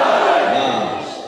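A large crowd at a Muharram majlis in Sheikhupura shouts a religious naara together in one loud, brief unison roar that swells and then trails off.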